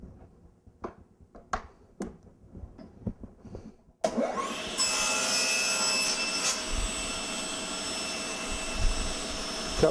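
A saw starts up and cuts through a piece of wood for a five-sided frame, a sudden loud whine after a few quiet taps and shuffles, then a sustained buzzing cut that holds to the end.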